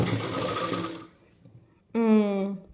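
Sewing machine stitching ruffles on a petticoat, a short close burst of fast, steady mechanical whirring that starts after a stretch of speech and a brief pause.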